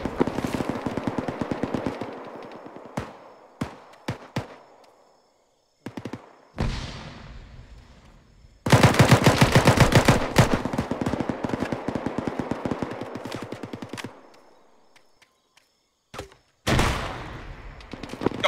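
Gunfire in combat from a vehicle with a turret, rapid automatic bursts and single sharp shots cracking close by in clusters, with brief pauses between volleys.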